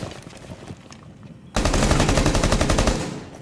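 Rapid automatic gunfire from a Rainbow Six Siege esports match erupts abruptly after a quieter stretch of scattered shots, a loud sustained burst of fast repeated rounds that slowly tapers off.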